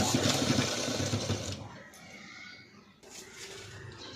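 Sewing machine double-stitching a padded blouse, a close mechanical whirr for about a second and a half, then quieter handling sounds with a brief renewed burst near the end; faint voices may be present.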